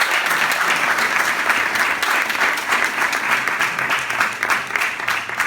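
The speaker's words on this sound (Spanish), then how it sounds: "Damos un aplauso." Loud, sustained applause from a church audience, steady, dense clapping filling the whole stretch without a break.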